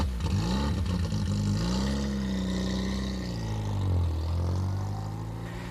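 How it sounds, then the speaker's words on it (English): A 1935 Morgan F4 three-wheeler with a Ford 1172cc ten-horsepower engine drones steadily nearby, its engine note rising and falling as it pulls along without any talk. "This is a 1935 Morgan F4. Uses the Ford 1172cc 10 horsepower engine."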